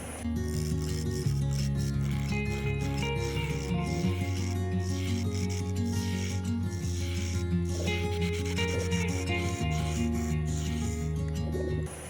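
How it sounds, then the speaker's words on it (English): Wood spinning on a lathe under a roughing gouge, a continuous close hum with a scraping, grinding edge and tonal whine that shifts pitch in a few places as the cut changes. "First thing we're going to do is take the roughing gouge, and we're just going to make this round."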